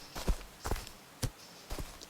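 Footsteps from a Unity game demo using FMOD audio: four soft, distinct steps at a walking pace, close and dry, with each step landing about half a second after the last.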